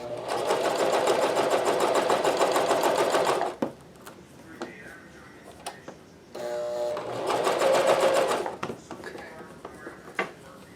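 A Janome CoverPro 1000CPX coverstitch machine runs in two loud, steady bursts of rapid stitching, separated by a pause with small handling clicks and quiet talk.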